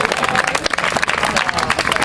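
A crowd at a beach volleyball event applauds the volleyball commission and referees with loud, dense clapping and some crowd noise, sustained throughout.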